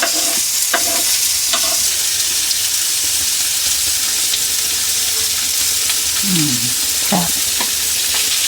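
Bomda fish (Bombay duck) shallow frying in a little oil around the sides of a pan with rava, a steady close sizzle running throughout, with a few light clinks and a brief spoken word near the end.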